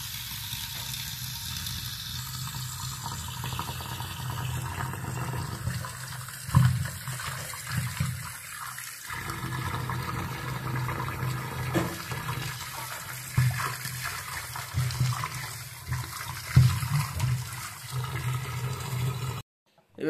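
Cut river fish being rinsed and washed by hand in water, a steady watery sloshing and splashing that runs continuously with a few sharper splashes, while a voice speaks over it.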